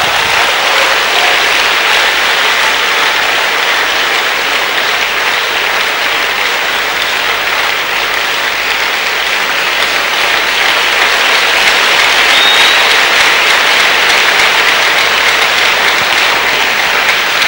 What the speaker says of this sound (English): Let's give the Lord a resounding clap of him.